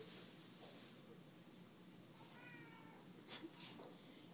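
A cat stuck behind plastic meows faintly a few times, short distant cries over quiet room noise.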